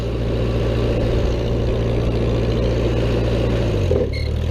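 The engine of a Vermeer 665A stump grinder runs at a steady, loud, droning idle close by, then dips slightly in pitch near the end with a faint mechanical clank.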